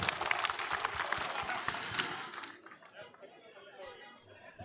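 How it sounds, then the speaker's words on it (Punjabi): A crowd at a political gathering claps briefly to welcome a politician, with chatter mixed in. The applause is fairly quiet, lasts a couple of seconds, then fades into low murmuring. "ਜ਼ੋਰਦਾਰ ਤਾਲੀਆਂ ਦੇ ਨਾਲ ਇਹਨਾਂ ਦਾ ਸਵਾਗਤ"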